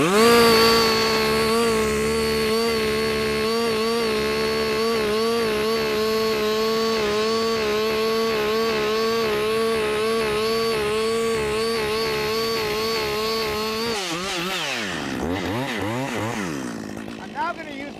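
A chainsaw boring through a standing tree, felling training: the engine runs loud and steady at high revs, droning with a harmonic whine for most of the clip, then wavers and winds down near the end.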